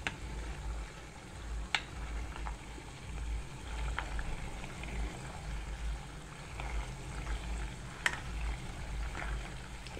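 Homemade ghee simmering over very low gas in a heavy-bottomed pot while being stirred, a soft continuous bubbling sizzle with occasional faint scrapes and clinks of the spoon against the pot.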